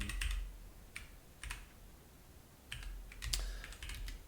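Keys clatter on a computer keyboard in short, quiet bursts of quick clicks with pauses between, close by and with no talking.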